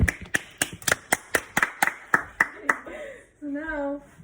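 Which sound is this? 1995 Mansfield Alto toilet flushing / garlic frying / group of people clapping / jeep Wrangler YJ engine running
group of people clapping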